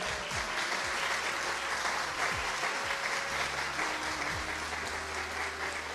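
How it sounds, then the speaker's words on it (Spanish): A church congregation claps enthusiastically and continuously, a dense steady wash of applause with no pauses. "Denle un aplauso fuerte al Señor."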